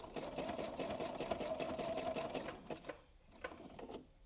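A sewing machine stitches a fabric bowl up close, its rapid mechanical whirr running steadily, then slowing into shorter bursts of stitches near the end, with no voices.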